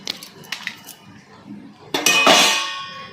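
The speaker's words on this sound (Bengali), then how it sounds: "কড়াইতে কয়েকটা শুকনো লঙ্কা দিয়ে দিচ্ছি" Dry red chillies drop into a wok with a metallic clang and clink of a spatula, followed by a loud, bright burst of sizzling that fades slightly over the last second.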